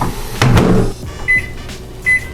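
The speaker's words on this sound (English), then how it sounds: "Take a few dogs, put them on a paper towel, throw them in the microwave." A microwave oven heating hot dogs laid on a paper towel: a door thud and clatter, then a steady low hum of the running oven, with two short high beeps from the keypad.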